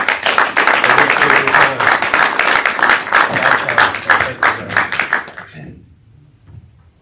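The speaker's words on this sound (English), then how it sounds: "I would ask that you guys give them one more round of applause" Loud, dense applause from a city council meeting audience fills the room for about five seconds, then thins out and fades to near silence.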